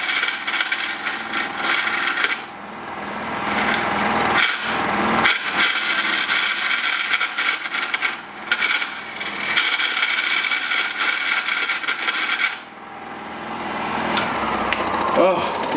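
A lathe turns a bowl of Froot Loops cereal cast in resin, with a loud, rough cutting and scraping that comes in long bursts broken by short pauses and a few knocks.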